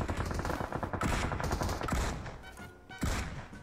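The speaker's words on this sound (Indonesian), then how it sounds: "Gue ditembak kayak handgun dari atas." Rapid gunfire crackles through a battle royale video game, with a handgun firing from above amid dense overlapping shots, a heavy thump near the end, and continuous loud combat noise throughout.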